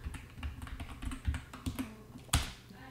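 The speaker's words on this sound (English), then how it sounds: "Now you can do that by typing." Rapid keystrokes on a computer keyboard while setting up a Raspberry Pi, a quick irregular run of close, crisp clicks with one sharper, louder key strike near the end.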